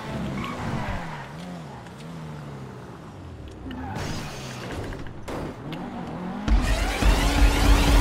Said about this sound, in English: tap the handbrake in order to slow it down